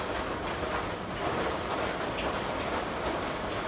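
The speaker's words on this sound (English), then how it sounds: "See that? That's a hail." Hail and rain pound steadily on a backyard outdoors, a dense, unbroken patter of many small impacts close by, with no voices.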